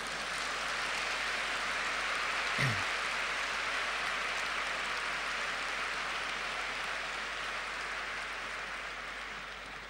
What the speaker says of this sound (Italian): Grazie per il vostro caloroso applauso